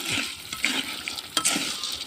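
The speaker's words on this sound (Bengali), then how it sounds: "এই দেখেন কিভাবে পাপন ভাজা লাগে" Papad fries in hot oil while being stirred, giving a busy crackling sizzle with sharp scraping clicks from the utensil, close and fairly loud.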